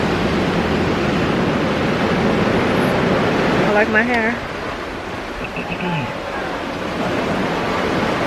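Steady roar of surf washing in, loud and constant, with a person briefly speaking partway through.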